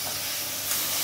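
Water from rinsing a mustard-paste bowl poured into a pan of simmering vegetarian mustard curry, giving a steady close hiss of steam and sizzle with a slight surge near the end, no voices.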